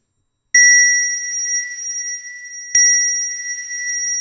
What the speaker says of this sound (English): You can kind of hear this ringing sound now.